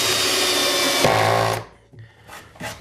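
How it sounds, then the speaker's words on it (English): A Bosch drill drives screws into a wooden nest box on a chicken coop, giving a loud, close whirring run of about a second and a half, then a short pause and a couple of brief bursts. "So the nest box now just screws in place."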